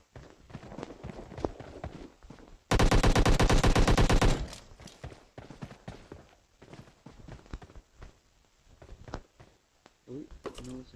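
A SCAR assault rifle in PUBG fires a loud rapid automatic burst of about a second and a half, followed by in-game footsteps and movement noises.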